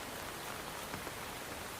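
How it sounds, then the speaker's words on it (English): Heavy rain falls as an even, dense hiss of drops that stays steady and moderately soft from start to finish, with no voices. "rain beginning to fall in heavy southern drops"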